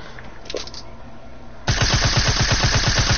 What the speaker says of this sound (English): I'm shooting the wall.